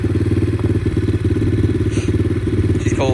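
A cold Apollo DBX18 dirt bike engine idles slightly high, a steady loud close-up chug with a rapid even firing rhythm throughout, a few light clatters on top.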